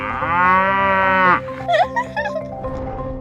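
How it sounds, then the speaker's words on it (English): A cow moos loudly and close by in one long, drawn-out call lasting over a second, then stops. Quieter talk and movement follow. "this cow that's mooing in the background"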